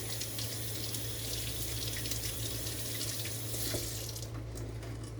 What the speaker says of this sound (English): first you want to take and you want to wash this pumpkin